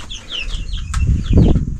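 Meat-bird hens cluck and chirp in a coop on pasture, with wings flapping and light rustling close by; no one talks.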